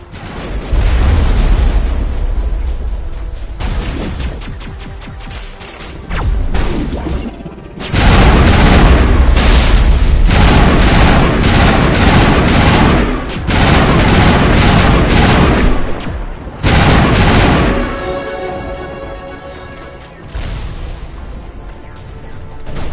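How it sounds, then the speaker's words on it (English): Enemy artillery pounding in a Mass Effect battle near a Solarian base, with heavy booming impacts and bursts of gunfire repeating in loud waves across the fight. "We must find a way to disable their artillery"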